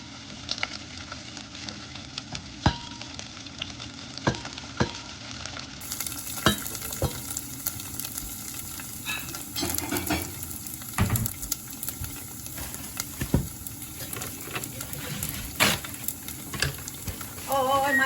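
Sun-dried pork sizzles steadily in hot oil, a dense crackling fry with frequent sharp pops and spatters throughout, close and fairly loud.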